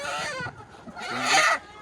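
Chickens and a rooster at a village poultry farm give off loud honking, clucking fowl calls in two bursts, with a brief quieter gap between them.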